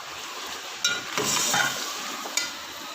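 Garlic sizzles steadily in a hot pan, with a few sharp scrapes and stirs breaking through the crackling hiss.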